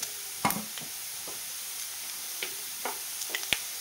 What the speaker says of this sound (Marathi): तेल छान गरम झाले आणि आपण थोडीशी मोहरी घालूया